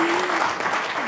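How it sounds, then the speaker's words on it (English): Brief, moderately loud applause from people gathered at a town council meeting, clapping for a middle school student in an indoor room. "Oh, well, we'll clap anyway."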